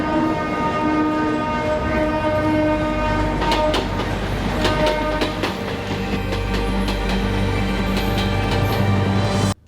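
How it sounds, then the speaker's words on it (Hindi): A train rolling along the rails near Mangalore City, with a loud, steady rumble and clattering wheels, sustained horn tones over it, and sharp metallic clacks as it passes close by. "ट्रेन चालू हो जाएगी?"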